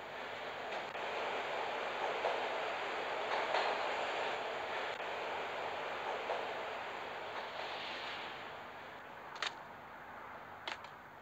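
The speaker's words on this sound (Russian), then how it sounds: "Когда поезд Гуниити замедлил ход" A train in the video game Max Payne rumbles along as it slows, giving a steady, wide, washing roar with a few faint clanks and sharp ticks near the end. No one speaks.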